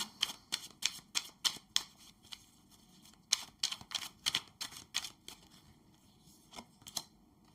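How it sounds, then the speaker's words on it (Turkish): Tarot cards shuffled and dealt by hand, a run of quick crisp riffling snaps and flicks in a steady rhythm, close and fairly quiet, with no talking. "Şu kılıç dokuzlusuna bir kart alalım."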